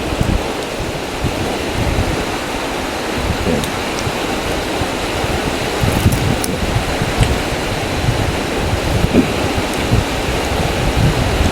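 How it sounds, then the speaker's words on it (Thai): Steady rain falling in a thunderstorm, a dense continuous hiss throughout with low rumbling of thunder underneath. "ฟังเสียงฝน บรรยากาศสุดยอดมาเลยครับ"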